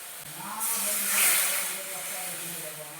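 Water poured into a hot pan of cooking mango pieces, swelling into a loud steamy hiss that peaks briefly and then settles into a steady simmering rush.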